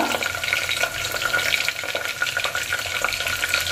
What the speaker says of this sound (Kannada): ಬಟಾಣಿ, ಕರ್ಬೇವಿನ ಸೊಪ್ಪು ಹಾಕ್ತಾ ಇದ್ದೀನಿ